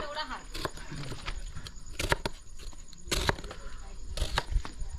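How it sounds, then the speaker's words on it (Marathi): Knife chopping onions on a board for a village chicken biryani party, a few sharp irregular chops standing out over background noise without any clear talk. "इकडे काम कांदा कापायचं काम चालू आहे"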